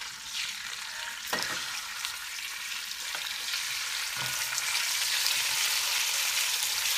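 Chicken pieces for paella frying and being stirred in a pot, a steady sizzle with a few sharp utensil knocks against the metal, building slightly louder toward the end.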